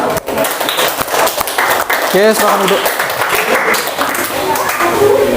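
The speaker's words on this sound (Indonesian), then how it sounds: "Oke, tepuk tangan." Classroom applause after a student group presentation, a steady wash of clapping from many hands, with a teacher's voice speaking Indonesian over it near the start.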